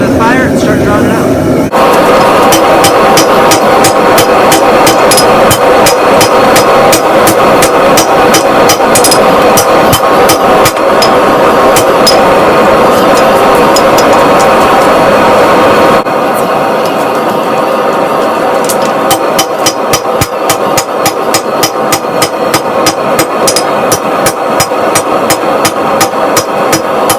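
A steady barrage of rapid hammer blows draws out a saw-blade Damascus billet, the strikes dense and loud over a constant roar of forge or machinery for the whole stretch.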